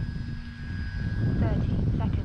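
An FMS PA-18 Super Cub 1300 mm radio-controlled model plane taking off, its electric motor whine rising and growing louder in the second half, heard fairly close with a person talking over it.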